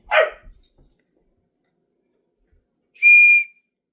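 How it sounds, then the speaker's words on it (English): A short, shrill whistle blast sounds loud and close after a brief dog-like yelp and a few seconds of near silence. "Like the whistle. Another whistle."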